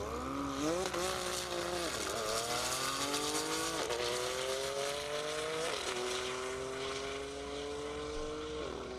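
A 1,000-horsepower Porsche Turbo S drag racing on a half-mile airport strip, its engine roaring loudly and climbing through repeated gear changes, each shift marked by a brief drop in pitch.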